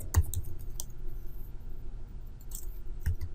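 Typing on a computer keyboard while entering text into a setup field, with a few sharp, distinct key clicks spread over a few seconds against a low background hum.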